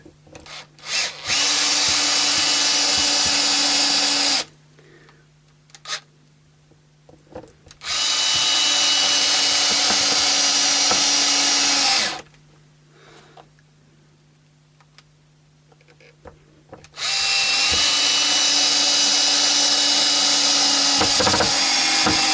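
A power drill drives screws into an Indian Encore AristoCat Strat guitar body in three long, loud whirring bursts of several seconds each, separated by quiet pauses with faint handling clicks.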